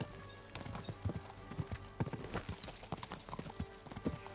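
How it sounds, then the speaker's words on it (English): A horse gallops in Kingdom Come: Deliverance 2, rapid irregular hoofbeats thudding close and loud under faint background activity. "I've got to catch him on my horse now."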